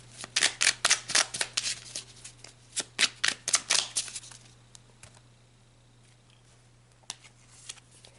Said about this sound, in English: let's pull you an advice card